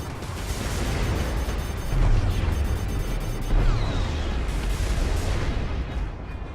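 Enemy gunfire and blasts in the space combat game Strike Suit Zero, a dense continuous barrage of booming shots and rumbling impacts with louder bursts near the two- and four-second marks, no talking.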